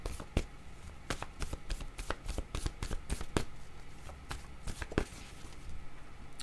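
Tarot-style reading cards being shuffled by hand, a close, quiet run of repeated riffling snaps and slaps in an irregular rhythm, no talk.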